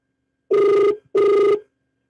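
A telephone rings twice for an incoming call, two loud, close electronic bursts of about half a second each separated by a short gap, with no voices.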